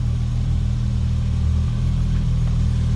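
A 1973 Triumph GT6 Mk III idles steadily through a newer stainless exhaust, a close, continuous low rumble with an even, smooth beat and no talking.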